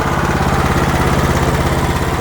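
A WM1100F-6 walk-behind tractor engine runs steadily at a loud, even idle, a continuous throbbing chug with no talk.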